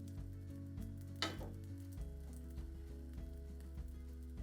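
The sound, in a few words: bread pieces frying and browning in a pan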